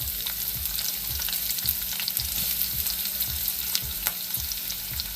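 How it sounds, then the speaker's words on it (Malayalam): Finely chopped half of a small onion frying in a pan with curry leaves for moru curry, a steady loud sizzle with regular stirring scrapes, no voices. "ഒരു ചെറിയ സവോളേൻ്റെ ഒരു പകുതി ചെറുതായി അരിഞ്ഞതാണ് നമുക്ക് ഇതിനകത്തേക്ക് ഇട്ട് കൊടുക്കാം"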